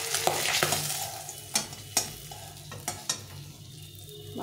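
Fish sizzling in hot oil in a pan while being stirred, a steady crackling fry broken by several sharp scraping clinks of the spatula against the pan.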